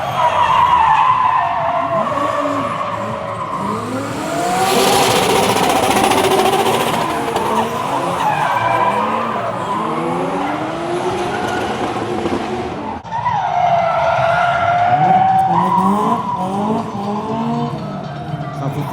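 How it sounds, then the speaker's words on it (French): Drift cars at a Japanese car festival slide past with loud, sustained tire squeal and revving engines, wailing screeches rising and falling over about twenty seconds, with crowd voices faintly underneath. "C'est la première fois que je vois du drift de près."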